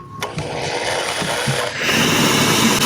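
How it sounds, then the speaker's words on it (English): A power drill whirs continuously while drilling holes in a Ford Raptor truck bed for L-track, its pitch rising and pushing harder partway through as it bites into the material. "Let's drill the back one. Let's drill the front one."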